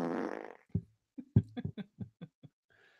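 A fart sound effect plays up close as a sputtering sequence of about ten short, punchy blasts following a longer rumbling opening, with no voices over it.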